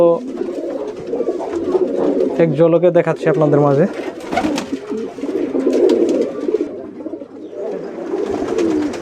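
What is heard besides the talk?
Lahori pigeons cooing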